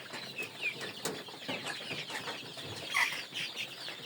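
Native deshi chickens on a farm in bitter winter cold cluck softly and intermittently, with scattered rustling and occasional wing flutters at moderate distance.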